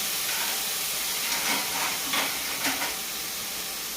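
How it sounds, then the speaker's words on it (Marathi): Cauliflower cooks under a lid in a covered pan with no added water, giving off a soft, steady hiss of steam that swells in a few faint puffs. "मी जरा वाफ दडपून ठेवते थोडीशी"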